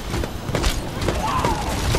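Bombs burst in rapid succession during the Overwatch Junkenstein event at a castle, loud overlapping booms and thuds packed into a dense, chaotic barrage.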